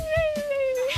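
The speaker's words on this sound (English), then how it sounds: "All right, Sarah, do you really have a dog that sings?" A dog sings on a TV game show interview, holding a single long, wavering howl-like note for about a second. Faint human voices murmur at the edges of the sound.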